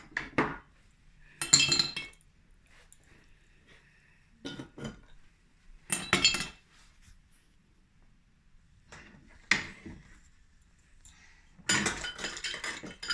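Ice cubes dropped into a cocktail glass for a Haitian planteur, several separate bright clinks and clatters in short bursts separated by quiet pauses, close and fairly soft.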